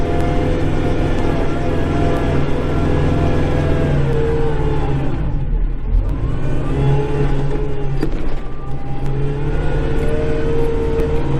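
A snowblower engine drones steadily and loudly in deep snow, heard from inside a cab, its tone holding fairly constant with slight dips in load as it works through wind-packed snow.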